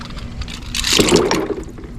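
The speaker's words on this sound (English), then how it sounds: "And I just dump all the bleach" Bleach is dumped out of a bucket used for cleaning shells, a brief loud splashing gush of liquid that swells and then tails off within a couple of seconds, close by.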